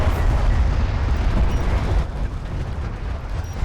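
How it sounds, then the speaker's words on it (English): An artillery barrage from the strategy game Homeworld: Deserts of Kharak, a dense, loud rumble of overlapping booms that eases slightly partway through. "It's gonna fire the barrage now"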